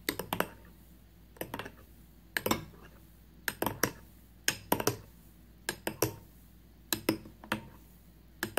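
A spoon clinks sharply against a glass while boiled milk is stirred into coffee for a homemade cappuccino, with clusters of bright taps and rattles spaced out over several seconds in a quiet room.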